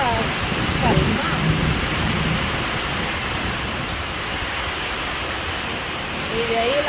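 Calm, steady rain falls outdoors, a continuous even hiss without gusts or thunder, with faint voices talking briefly near the start and end.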